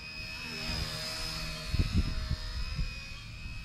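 A small XK AS350 RC helicopter whines steadily with a high-pitched rotor tone, while a few low bumps and thuds sound in the middle.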